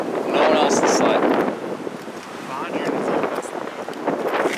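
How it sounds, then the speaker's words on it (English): Strong outdoor wind buffets the microphone in a steady rumbling roar that swells loud early, dips briefly, then builds again, with a faint voice in the background. "there's a lot of wind today"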